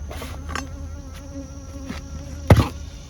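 Honey bees buzz steadily around their hives during a summer heat wave, a close, continuous insect drone with a brief louder burst near the end as one passes near.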